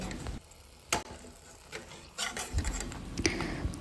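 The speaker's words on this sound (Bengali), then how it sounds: "শুকনো মরিচগুলো নেড়ে চেড়ে আমাদের মুচমুচে করে ভেজে নিতে হবে" Dried red chillies stirred and fried in hot oil until crisp: a soft continuous sizzle with scraping spatula strokes and a few sharper clinks, fairly quiet and close, with no talking.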